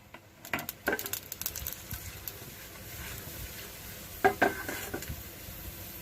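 Mustard seeds and chana dal frying in a little oil in a frying pan on a gas stove: a faint, close sizzle with scattered spoon scrapes and light clinks against the pan, no talk.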